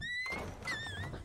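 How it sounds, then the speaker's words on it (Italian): A door in the Fortnite video game opens with a short wooden thunk and a thin, wavering squeak, heard close over a game background. "È il rumore della porta."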